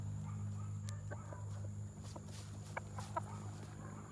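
Chickens clucking in a farmyard, short scattered clucks and calls over a steady low background hum, fairly faint and without talking.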